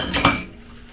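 A quick clatter of metal cutlery clinks against a cup, a couple of close, bright chinks in under a second.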